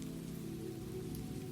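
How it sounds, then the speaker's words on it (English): Steady rain falls and patters evenly on surfaces, close and constant, with no voices. "Rain tapped softly on the brim of her hat."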